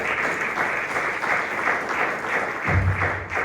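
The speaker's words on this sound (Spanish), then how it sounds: "Regalen una ofrenda de palmas al Señor." A church congregation applauds during a Spanish-language Bible study service, a sustained, fairly loud wash of clapping from many hands that lasts the whole moment, with a low rumble near the end.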